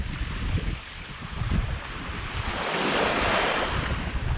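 Surf breaks on the reef at Kalbarri, Western Australia, a rolling wash of white water that swells and recedes, mixed with gusts of wind buffeting the microphone.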